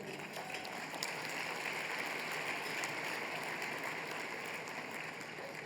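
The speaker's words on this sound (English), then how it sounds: "So I think we can applaud for that too." Steady applause from an audience at an awards luncheon, a continuous even wash of clapping heard from a distance at low volume, with no voices over it.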